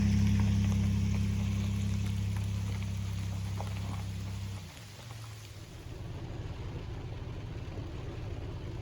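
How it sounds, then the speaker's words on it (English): Steady rain patters outside a van parked in the Talladega National Forest, a dense broadband hiss that holds for the whole stretch without voices, briefly under a low engine-like hum at the start. "it is raining now. Pretty good rain, actually."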